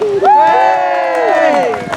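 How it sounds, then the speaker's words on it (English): A crowd at an outdoor park show cheers loudly and steadily for medieval knight reenactors, with many overlapping whoops and shouts from adults and children. "So give a final cheer for Ragnall the Scot!"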